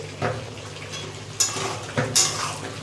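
Potato and bori curry is stirred in a pan after salting, with several scraping, clinking strokes of a spoon against the pan over a continuous frying sizzle.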